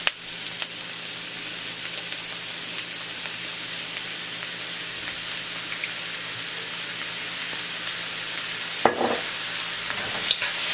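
Vegetables with oyster sauce stir-fried in a pan give a steady, close sizzle with soft stirring and scraping throughout, plus a couple of sharper clatters near the end.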